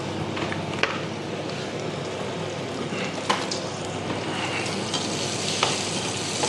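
Carbonara ingredients crisp up in a frying pan with a constant hiss of sizzling fat, broken by a few sharp knocks of a utensil against the pan.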